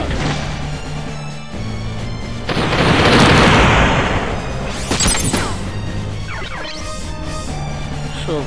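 Bomb blast in the Front Mission 3 PlayStation game: a loud, sustained explosion rumble swells and fades, followed by sharp crashing debris hits over a steady game music drone.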